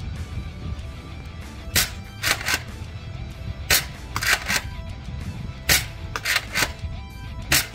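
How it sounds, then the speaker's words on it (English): An XShot Longshot Pro toy blaster fitted with a scar barrel fires ruby darts, each shot a sharp snapping pop; several bursts come in uneven clusters over a quiet room background with no talking. "Five shots with ruby darts."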